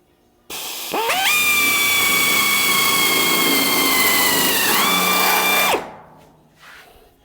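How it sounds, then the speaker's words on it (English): A power drill spins up sharply, whines at a steady high pitch for several seconds while drilling through a Classic Mini heel board into the floor panel, then winds down and stops. "you can hear it when it bottoms out and it's not drilling anymore"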